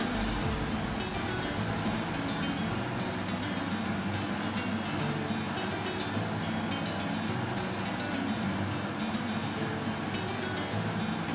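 A kitchen range hood fan runs throughout, a steady, fairly faint broadband whoosh with no talk over it, from a home kitchen where zucchini fritters are frying.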